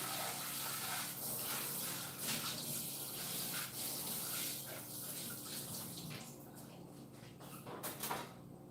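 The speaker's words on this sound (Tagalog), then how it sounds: "Patay ko na yung tubig sa likod." Water runs steadily from a tap, a continuous moderate rushing flow that lasts throughout and thins slightly toward the end.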